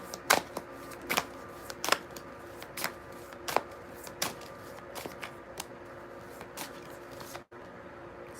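Tarot cards shuffled by hand in a quiet room, a steady run of about a dozen crisp riffling snaps spaced roughly half a second apart, close to the microphone with no talking.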